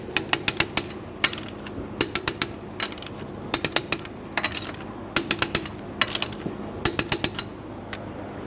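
A torque wrench clicks and ratchets as lug nuts are tightened in a crisscross pattern on the wheel of a 1992-1996 Toyota Camry, with bursts of rapid sharp metallic clicks separated by short pauses, close and clear.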